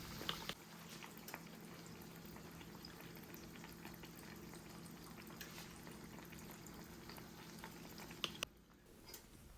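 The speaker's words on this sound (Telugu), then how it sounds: "1 కానీ 2 కానీ వేసి ఫ్రై చేస్తూ ఉండాలి." Ariselu, sweets made from rice-flour dough, deep-frying in oil over a medium flame give off a continuous, fairly quiet bubbling sizzle with faint crackles that drops away abruptly near the end.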